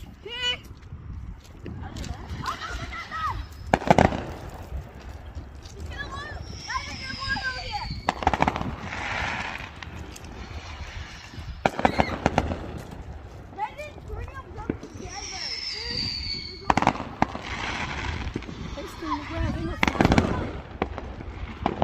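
Fireworks pop and crackle outdoors in repeated bursts of sharp bangs, heard at a moderate distance, while people talk through much of it during a family outing.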